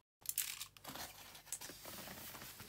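Packaging for a Tokyo Marui MTR16 Gold Edition gas blowback rifle being torn open up close, with loud crinkling and tearing bursts that settle into steady rustling, and no talking.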